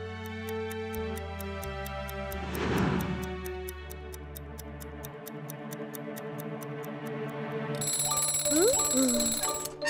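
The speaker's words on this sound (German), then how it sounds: "Da geht der Wecker los." In a cartoon, a clock ticks steadily over playful background music, then an alarm bell breaks into a loud, sustained ring near the end.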